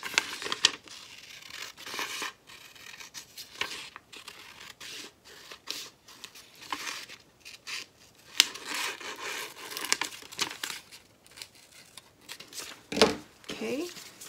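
Scissors snipping through paper along the dashed line of a bucket bag zipper facing pattern piece, with crisp irregular cuts and crinkling rustles close up, the sound fairly quiet throughout.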